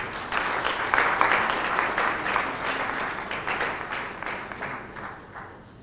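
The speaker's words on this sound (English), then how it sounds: "I was thinking you clap louder than that" Sustained audience applause at an annual symposium, dense steady clapping from a crowd that holds for several seconds and then tapers slightly toward the end, no voices over it.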